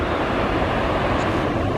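The waterfall of the Glacier Blanc in the Hautes-Alpes mountains gives off a constant, dense roar of rushing water, loud and close, with a faint wind-like hiss.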